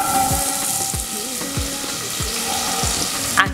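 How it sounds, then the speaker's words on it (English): Onion and garlic fry in oil and butter in a pot, a steady close sizzle with occasional stirring scrapes throughout. "We're going to fry the onion and the garlic"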